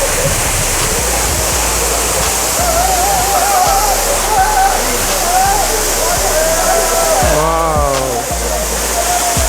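Kona Falls (Kailasakona Waterfalls), a 40 ft waterfall in Chittoor, Andhra Pradesh, roars as a steady, loud wash of falling water throughout, with people talking over it.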